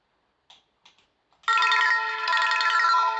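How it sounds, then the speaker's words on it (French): A Cubot Max 3 smartphone plays a bright electronic ringtone through its loudspeaker after a few soft taps and clicks, with sustained melodic tones that ring loud and close to the end. "je vais vous faire écouter la sonnerie du téléphone"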